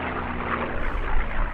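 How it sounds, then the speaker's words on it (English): A P-51 Mustang fighter in United States Army Air Force colours flies past at the Duxford airshow, its engine a loud, steady roar with a deep low rumble that swells slightly toward the end. "this aircraft now wears the colours of the United States Army Air Force"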